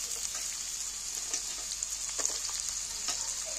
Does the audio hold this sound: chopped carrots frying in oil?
yes